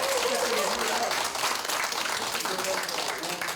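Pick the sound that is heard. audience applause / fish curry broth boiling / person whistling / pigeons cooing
audience applause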